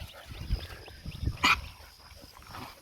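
A Maremma puppy whimpers and yips softly among sheep, with short muffled vocal bursts and one brighter squeal midway over low rustling background.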